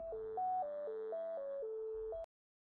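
A telephone gives off an electronic tone that steps back and forth between two pitches in a steady pattern for about two seconds, then cuts off abruptly into silence.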